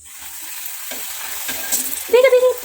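A puri is dropped into hot oil in a scorched, blackened pan. A quiet hiss quickly builds into a loud, bubbling sizzle, ending in a burst of vigorous frying.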